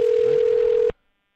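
A single steady telephone ringback tone on an outgoing call sounds loud and clear for about a second, then cuts off abruptly into silence.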